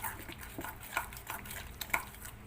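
Rava idli batter of semolina with baking powder being stirred in a bowl, soft scraping swirls with a few sharper spoon clinks against the bowl, close and fairly quiet.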